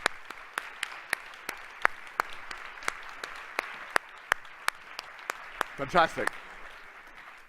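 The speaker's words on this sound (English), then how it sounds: "give them a round of applause" Conference audience applauds a panel coming up on stage at an opening plenary, with steady, evenly spaced sharp claps standing out over a soft wash of clapping, and a voice speaking briefly near the end.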